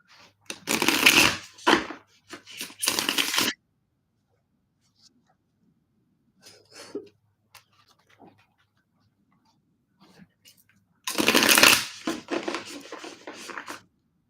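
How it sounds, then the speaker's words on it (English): A tarot deck is shuffled in two quick bursts of riffling at the start and again near the end, with quiet gaps and faint small movements in between. "I'm gonna shuffle for a little bit."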